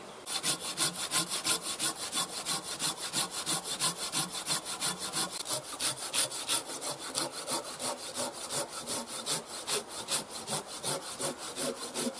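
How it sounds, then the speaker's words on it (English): A saw cuts back and forth through a damp wooden round in even, rapid strokes, loud and close with a steady rasping rhythm throughout and no talk. "I'm going to cut the round up quite short so it's easy to batten."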